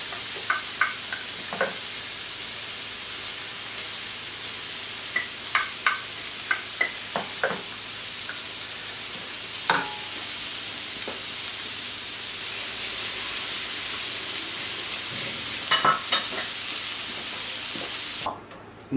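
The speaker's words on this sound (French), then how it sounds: "Vous ajouterez la crème fraîche et vous la laisserez réduire." Crème fraîche reducing in a pan, a steady soft sizzling hiss that carries all the way through, with scattered light clicks of stirring near the start and again later, close and quiet, with no talking.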